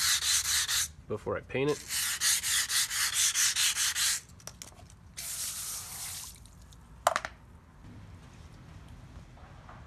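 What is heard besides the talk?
sanding chassis part before painting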